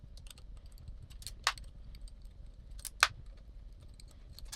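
Small metal clicks and clinks of a wrench working three bolts loose on a crashed Yamaha R1 motorcycle during a rebuild, quiet and close, with two sharper metallic taps standing out over a low background hum.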